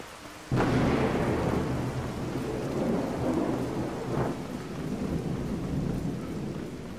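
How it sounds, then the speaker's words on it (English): Loud crack of thunder from a lightning bolt in the video game Skyrim, a sudden heavy boom that rolls on with steady rain, and a second smaller rumble a few seconds later. "That lightning bolt, though, fucking damn."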